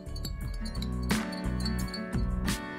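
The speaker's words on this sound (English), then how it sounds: "Give it a quick stir." A spoon stirs milk into minty cold coffee in a glass, with quick repeated clinks against the side over a few seconds, close and clear.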